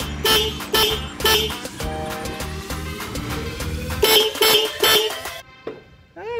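A loud Denso dual disc car horn blares in repeated honks, short bursts and a longer held blast, close by with an engine-like rumble underneath, ending abruptly.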